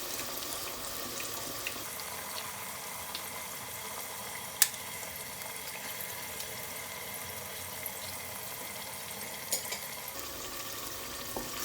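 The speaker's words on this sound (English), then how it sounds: "Now stir through it." Oil rice with eggs being stirred in a pot, a continuous wet scraping and sizzling texture with occasional sharp clinks of the spoon against the pot, close by and steady.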